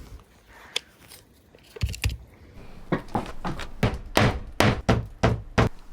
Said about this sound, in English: I'm getting the hang of hammering up.